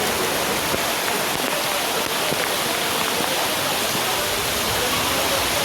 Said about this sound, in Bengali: সকাল থেকে এই মুষলধারে বৃষ্টি হচ্ছে